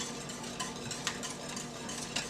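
Grated cauliflower grits with vegetable stock and butter stirred in a pot: soft, faint scraping and occasional light clicks of the spoon, continuous and close, with no talking.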